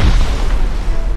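A rocket detonating at close range in the survival game Rust during a raid, producing a loud, heavy boom with a deep rumbling tail that fills the whole short moment.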